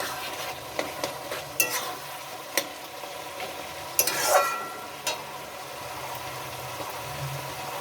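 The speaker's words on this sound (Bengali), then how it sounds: "এবার আমি ঢাকনাটা খুলে নেড়ে দেব।" Food sizzles gently in an uncovered pan while a spoon stirs it, giving sharp clinking scrapes against the metal at irregular moments over a soft, faint frying hiss.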